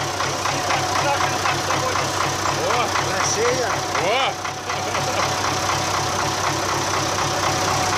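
A Russian tractor engine idles with a steady, knocking mechanical chug, loud and close, while people talk over it.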